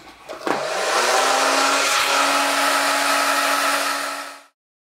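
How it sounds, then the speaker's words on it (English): A handheld blow dryer runs steadily for about four seconds while a wig is being styled, giving a loud, continuous whooshing hum with a brief click at the start, then cutting off abruptly. "But I'm going to take the blow dryer."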